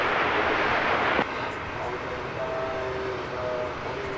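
A Qantas Boeing 787 Dreamliner at DFW airport at night produces a broad, steady jet engine rush that drops abruptly partway, leaving a lower airport rumble with faint tonal whines, under intermittent talk.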